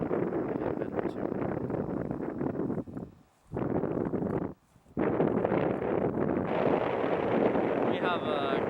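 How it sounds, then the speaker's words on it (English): Gusty wind of up to 15 knots buffets the microphone on a sailboat, a loud steady roar with brief drops in between gusts, and voices talk throughout. "We have gusts up to 15 knots. You can probably hear that in the camera."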